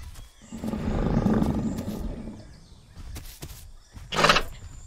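An alligator in the video game The Isle lets out a long, throaty roar, followed after a pause by a shorter, sharper second bellow, both fairly close over quiet game ambience.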